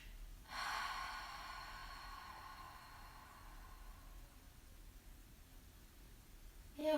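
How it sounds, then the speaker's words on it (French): A deep breath pushed out through the mouth during a Hatha yoga session, heard as one long, soft, airy exhale that fades gradually over several seconds in a quiet room. "Prenez une grande inspiration ici. Et expirez par la bouche."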